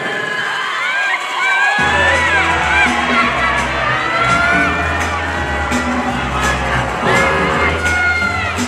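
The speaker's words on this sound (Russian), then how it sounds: "Давайте попробуем аплодировать так танца." An audience at a Latin dance championship cheers, whoops and shouts during the final jive, a dense, loud crowd roar that bursts in after a brief quieter start and keeps going with shrill voices on top.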